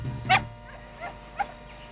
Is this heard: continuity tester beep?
no